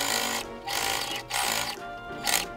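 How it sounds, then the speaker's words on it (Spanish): A sewing machine runs a straight stitch through fabric for a drawstring cloth bag, in three quick mechanical bursts with short pauses between them. No voices. "Realizo una puntada recta, una puntada lineal o la puntada número 2"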